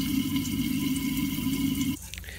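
Fermenting three-stage samyangju makgeolli rice wine is stirred, giving a steady, close liquid swishing and dripping for about two seconds before it abruptly stops.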